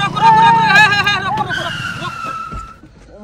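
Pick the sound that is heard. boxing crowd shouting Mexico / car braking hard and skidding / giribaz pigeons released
car braking hard and skidding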